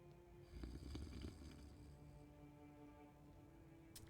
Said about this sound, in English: Drunken snoring.